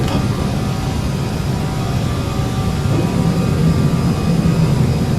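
Airbus A319 jet engines roar steadily at takeoff thrust in Flight Simulator X, a loud continuous low rumble with broadband hiss that holds through the whole stretch without talk.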